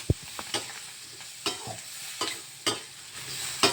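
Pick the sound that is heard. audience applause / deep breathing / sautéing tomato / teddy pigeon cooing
sautéing tomato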